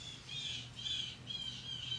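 Birds squawking right outside a window, a string of about five harsh, fairly loud calls in steady succession with no one talking.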